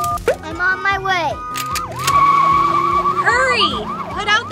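A toy fire truck's siren wails in looping up-and-down sweeps, loud and close, while a voice and other speech come and go over it.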